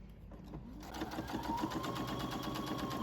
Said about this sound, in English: forward and back stitch at the beginning and the end